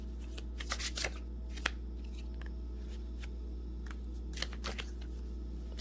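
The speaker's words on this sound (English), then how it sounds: "So I'm just going to shuffle here on my lap because that's better." Tarot cards shuffled on a lap, with quick riffling bursts and soft slaps in clusters near the start and again near the end, close and fairly quiet over a low steady hum.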